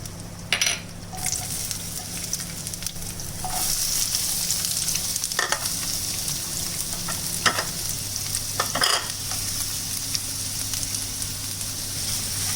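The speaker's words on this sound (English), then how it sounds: "let's saute our onion and garlic for a minute" Onion and garlic sautéing in a pan, a steady close sizzle with several sharp scrapes and clinks of a utensil stirring against the metal.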